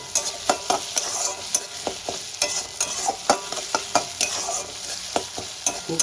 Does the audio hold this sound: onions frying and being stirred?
yes